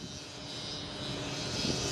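A steady, buzzing drone like a 100 cc motorbike from a kite's hummer hums continuously under gusty, stormy wind noise, gradually growing a little louder.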